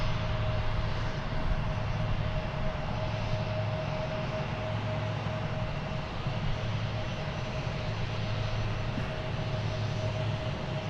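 Airliner at DFW Airport, a steady, even jet engine roar with a constant tonal whine, moderately distant and sustained without a break throughout.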